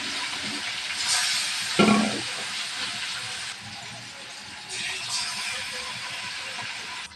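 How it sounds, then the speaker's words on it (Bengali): Pieces of rohu fish hit hot oil in a pan and sizzle with a steady, close hiss, flaring louder around when they go in, then settling into continuous frying. "তেল গরম হয়ে গেছে, দিয়ে দেবো মাছ"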